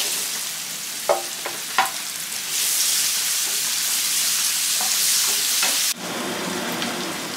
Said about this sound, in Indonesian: lalu masak bawang bombaynya ya teman-teman